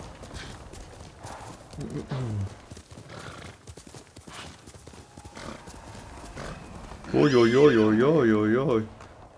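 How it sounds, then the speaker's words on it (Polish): Horse hooves clip-clopping in the video game Ghost of Tsushima, a few near hoofbeats amid game sounds, ending with a loud whinny; someone talks over parts of it. "Dobry z ciebie koń, Nobu."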